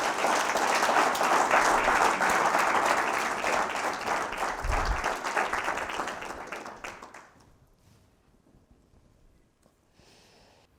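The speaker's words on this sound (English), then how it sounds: "Let's give him a round of applause" A conference audience at a leadership talk gives the arriving speaker a loud, sustained round of applause that fills the room for several seconds, then fades out, leaving near silence.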